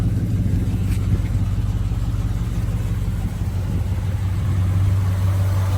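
The rebuilt, numbers-matching engine of a 1969 Chevrolet Chevelle SS runs close by with a deep, steady low rumble and a slight lift in revs partway through, with no voices.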